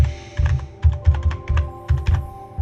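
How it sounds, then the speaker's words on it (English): Computer keyboard typing, close and clear: a run of quick, irregular key clacks with dull thumps, steady for a few seconds with no talking over it. "I've got two keyboards here and I'm typing with the wrong keyboard"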